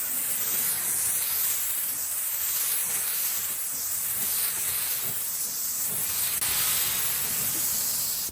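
A spray gun lays a second coat of paint on car bodywork at home, making a steady, close hiss that runs unbroken for several seconds before cutting off at the end.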